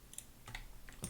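Computer keyboard keys are pressed a few times while modeling in Blender, producing soft, scattered clicks close by in a quiet room.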